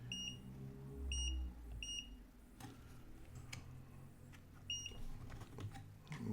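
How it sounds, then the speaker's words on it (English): A Milwaukee TRMS digital multimeter set to max mode gives a series of short, faint electronic beeps in pairs and singles over a low background hum, with no talking. "let me take it out of max mode because I don't want all that beeping"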